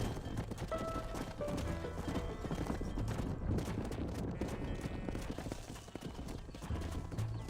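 Horse hooves clip-clop steadily amid busy Red Dead Redemption game noise, with a horse whinnying and other scattered sounds layered over the clatter.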